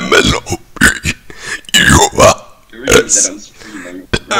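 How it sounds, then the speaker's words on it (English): Loud, drawn-out burps come one after another in a run of voiced belches, close to the mic during a podcast. "I can burp anytime I want."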